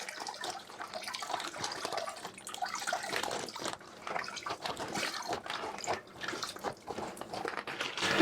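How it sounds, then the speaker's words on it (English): Water splashes and trickles continuously up close as wet cloth diapers are squeezed, with dripping and sloshing that rises and falls in bursts. "I kind of squeeze the diapers to try to squeeze more water out"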